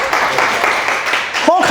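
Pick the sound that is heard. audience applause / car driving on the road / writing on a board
audience applause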